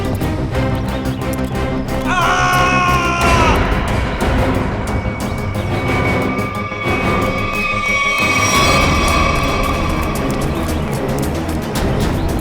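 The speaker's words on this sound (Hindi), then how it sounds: "ये आवाज, ये चीखने की आवाज कहाँ से?" A person screams over a loud, dense dramatic music score in a tense crime-serial scene, with another strained cry surfacing later; no one speaks.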